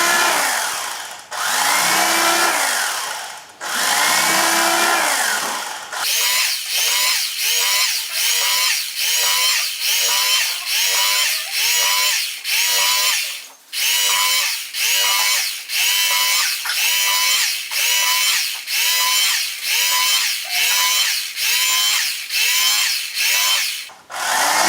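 An electric carving knife slicing a turkey buzzes in loud, steady bursts, with a couple of longer runs at first and then a rapid, regular series of short on-off pulses as the blade saws through the meat.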